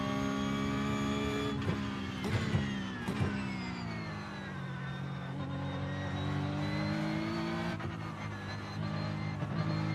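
A GT3 race car engine in the sim racing game iRacing revs and shifts at close range, pitch rising and falling with several sharp gear changes, steady and loud throughout.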